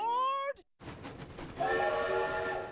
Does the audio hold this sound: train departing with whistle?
yes